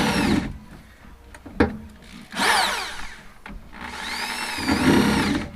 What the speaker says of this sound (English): I have to drill a couple holes and then just bolt it on